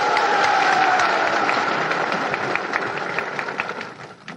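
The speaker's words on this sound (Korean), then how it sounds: "서울 시민 여러분들이 격려의 박수를 보내주실 것을" A large outdoor crowd at a 1971 presidential election rally in Seoul's Jangchungdan Park applauds, a dense, sustained wash of clapping that slowly thins and fades near the end.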